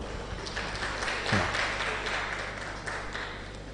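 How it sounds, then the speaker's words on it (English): Audience at a research and innovation day event applauds in a soft, steady patter of clapping, fairly distant and fairly faint, with a brief voice in the middle. "Please a round of applause for."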